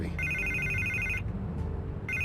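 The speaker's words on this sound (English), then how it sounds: "I can't get the phone to stop ringing." A telephone rings in Batman: The Telltale Series, an electronic two-tone ring repeating in a long burst, a brief pause, then starting again, clear and fairly quiet with no talk.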